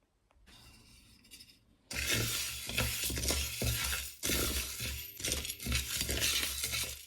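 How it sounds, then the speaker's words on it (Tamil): Cloves and curry leaves dry roasting in a pan, with a steady dense crackle and occasional clinks of stirring that start after a quiet opening and continue loud to the end. "நாலு கிராம்பு கருவேப்பிலை ஒரு ரெண்டு கொத்து கருவேப்பிலை இதை வந்து நான் ட்ரை ரோஸ்ட் பண்ண போகிறேன்"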